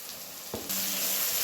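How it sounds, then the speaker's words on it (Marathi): Spice masala for a mixed vegetable curry frying in a pan, a thin hiss that jumps to a bright, loud sizzle after a short knock and then holds steady, close up. "चांगलं भाजलं आहे आपला मसाला आता सगळा"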